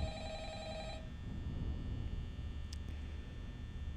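Telephone ringing in the Five Nights at Freddy's horror game, a steady electronic ring with layered harmonic tones lasting about a second before cutting off, leaving a low ambient hum with a brief faint click later.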